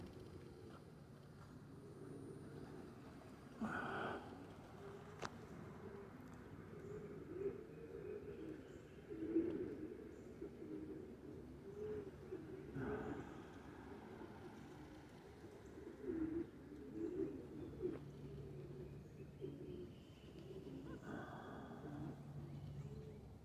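Racing pigeons, white and dark birds at an outdoor toss and exercise session, coo softly at a distance over steady open-air background noise, with occasional louder bursts of movement.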